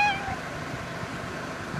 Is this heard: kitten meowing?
yes